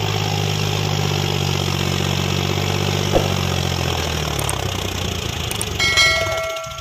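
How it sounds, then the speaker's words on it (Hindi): A brick-kiln tractor's heavy engine idles with a steady low rumble, then dies down; a few metallic clinks and a ringing clang sound near the end. "ये भट्टे का ट्रैक्टर है"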